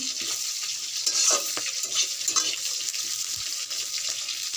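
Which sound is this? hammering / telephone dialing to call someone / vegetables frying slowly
vegetables frying slowly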